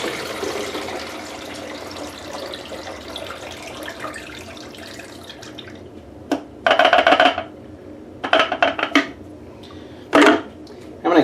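Used liquid poured from a black-and-white film developing tank into a sink: a steady splashing pour, then short bursts of running and dripping water against the basin.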